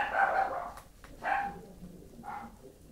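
A dog gives a few short, fairly faint yips and barks spaced a second apart in a quiet room during a makeup session.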